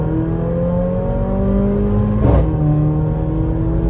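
A BMW M2 engine pulls hard under acceleration, with a loud, steady rising drone heard from inside the car and a brief sharp burst midway, no talking.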